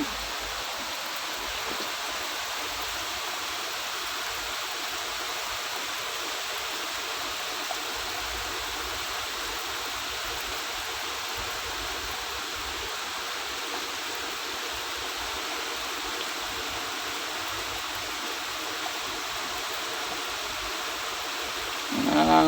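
Steady rain falls without a break, making an even, close broadband hiss like water pouring down, with a brief rise in loudness at the very end and no voices.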